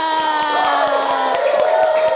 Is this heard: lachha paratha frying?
no